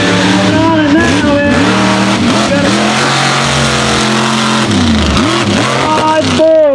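Mega truck powering around a corner on a West Virginia mud course, its engine loud and near, dropping in pitch then revving hard again, with faint voices beneath.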